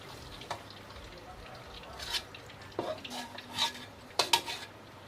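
A utensil scrapes and clinks against a pan with faint sizzling of frying beef underneath, in irregular bursts; a voice talks nearby.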